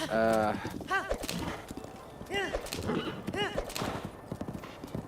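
Horse hoofbeats clip-clop in Zelda: Breath of the Wild, with several neighs and whinnies rising over a busy game soundtrack and chatter.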